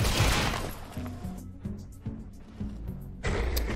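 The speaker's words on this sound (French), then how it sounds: "On va te tirer dessus, toi." Weapon fire in the tactical game XCOM Chimera Squad, a loud burst of gunfire at the start, then rhythmic mechanical thumps and a renewed blast near the end.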